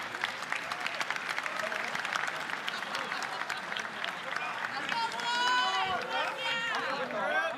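An audience at an esports major grand final applauds continuously during a trophy presentation, a dense sustained clapping with cheers and voices rising toward the end.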